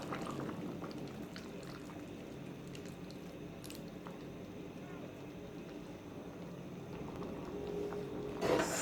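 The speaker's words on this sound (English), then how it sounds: "So now I'm gonna add the coconut milk." Coconut milk pours into a pot of Jamaican pepperpot soup, a faint, steady liquid stream with light drips, quiet and close, with a voice briefly heard.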